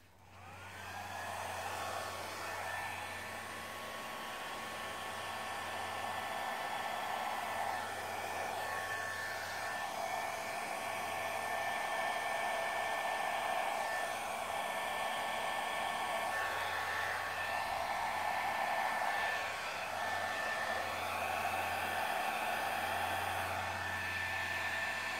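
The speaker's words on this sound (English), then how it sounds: "I think that's enough with a blow dryer." A hair dryer blows continuously at close range over a toilet seat, a steady whooshing roar with a faint whine that holds for the full length with slight shifts in tone as it moves.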